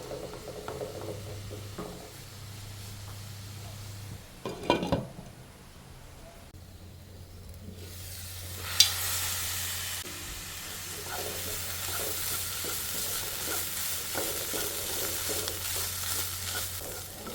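Bitter gourd thoran with garlic and green chilli cooking in a pan, a low steady sizzle with scraping and stirring clatter, a few sharp knocks near the middle, the pan noise continuing throughout.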